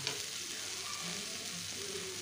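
Spice paste frying in oil for pabda fish curry while being stirred, a soft, even, continuous sizzle heard up close and alone.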